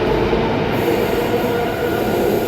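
An Ahmedabad Metro train roars past at speed, a loud continuous rumble with rail hiss and a faint high squeal.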